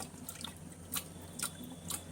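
Dal lentils are rinsed and swirled by hand in water, giving a quiet, continuous sloshing with three soft splashes at regular intervals and no voices.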